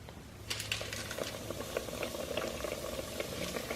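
Mickey-shaped beignets frying in hot grease, a continuous bubbling sizzle with crackling pops, fairly close and steady throughout.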